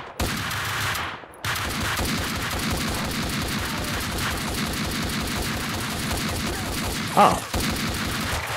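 Sustained gunfire in the action shooter Max Payne 2, heard as a dense, continuous burst of shots for several seconds, with a short break early on and a brief spoken exclamation.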